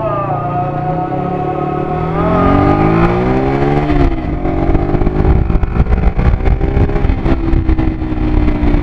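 A Minerva 150 VX 150 cc motorcycle engine idles, then revs up with rising pitch and settles into a loud, steady throaty roar close to the microphone.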